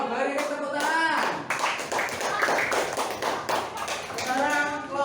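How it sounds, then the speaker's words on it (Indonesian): Clapping from a classroom group of teachers in training, a few minutes of steady hand claps with voices talking over the top and a brief lull midway. "beri tepuk tangan"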